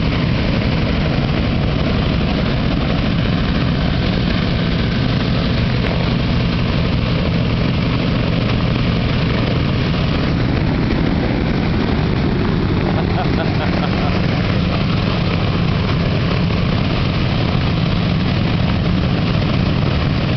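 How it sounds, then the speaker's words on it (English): B-17 bomber propeller engines run steadily for the whole stretch, a loud, dense, unbroken drone that stays close and constant, with no clear voices rising above it. "Wave to the airplane."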